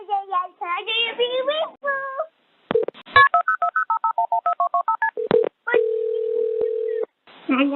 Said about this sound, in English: A toddler calling 911 to help satisfy a craving.